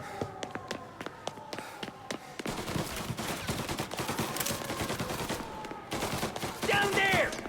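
Gunfire erupts in a Mafia Definitive Edition shootout: a rapid sequence of sharp, separate shots, then dense overlapping bursts and volleys that swell louder toward the end, with brief shouted voices mixed in.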